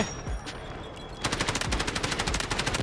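Automatic gunfire in the video game Delta Force: a few scattered shots, then a sustained rapid burst of evenly spaced, punchy reports that carries on to the end.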